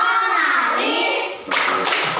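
Schoolchildren in an Indonesian classroom clap together in a rhythmic chant, a dense burst of many small hands that is loud and close, pausing briefly before resuming, with young voices mixed in.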